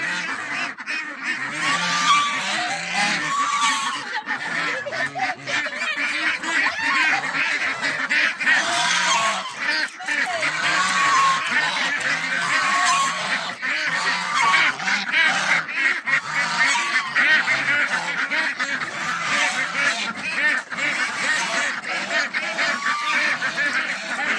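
Busy, continuous honking and quacking from a flock of seven-week-old Pekin ducks nearby, loud and overlapping with no pause.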